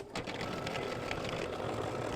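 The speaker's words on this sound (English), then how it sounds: "now I'm going to stitch color stop number 6, which is going to tack down the white" Embroidery machine stitching a mug rug, tacking down white fabric: a steady, fast mechanical whirr of needle strokes runs continuously and close at a constant level, with no talking over it.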